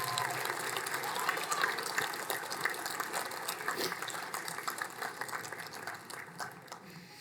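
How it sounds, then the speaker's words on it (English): An audience at a fall graduation ceremony applauds families and friends, a steady wash of many hands clapping in a large hall that slowly tapers off toward the end. "So would you please give a round of applause to your support group"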